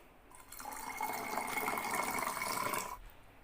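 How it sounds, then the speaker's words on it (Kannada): Water is poured into thin buttermilk for a tambuli drink in a Tulunadu village kitchen: one soft, steady pour of about two and a half seconds, close and quiet. "ಇನ್ನು ಇದಕ್ಕೆ ಸ್ವಲ್ಪ ನೀರು ಸಹ ಸೇರಿಸುವುದು."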